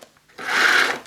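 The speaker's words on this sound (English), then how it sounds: "Also at the back we've got the flex. Just pull that out." The power flex is pulled out from the back of a Miele Complete C1 Powerline Cat & Dog vacuum cleaner, a brief close whirring rasp lasting under a second and ending in a small click.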